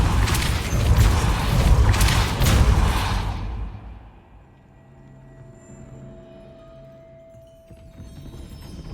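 A Depulso spell cast in Hogwarts Legacy, heard as loud rumbling, booming bursts over the first few seconds that give way to a quiet hum with faint mechanical clunks.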